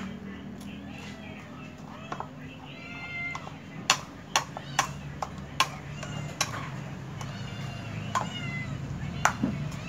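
A pet cat meows several times in short calls over a steady background hum with scattered sharp clicks and clatter, with no speech.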